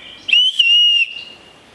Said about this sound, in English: The neck sheath has a built-in whistle.